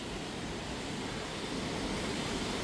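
Steady broadband rush of small waterfalls along the Lotrișor hiking trail, a continuous close wash of falling water with no pauses and no voices.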